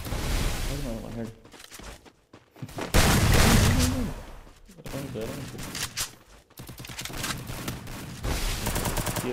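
Gunfire in a mobile shooter match played in a custom room, sounding in repeated bursts and scattered shots at varying distance, with people talking over much of it.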